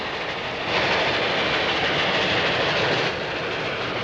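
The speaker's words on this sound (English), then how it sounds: "it's a train" A loud, continuous rumble and roar swells for a few seconds as a train passes close by, then eases slightly.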